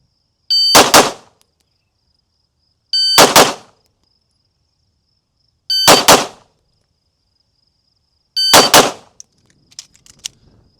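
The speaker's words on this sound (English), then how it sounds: "The second round, you're just going to pull the trigger." Four loud, sharp gunshots, each followed by a ringing metallic clang from struck steel targets, spaced roughly two and a half seconds apart, with faint clicks and rattles after the last, no talking.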